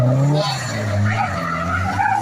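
A Nissan SX900 drifts with its tyres skidding and squealing, a loud, close, continuous screech with shifting pitch over engine roar.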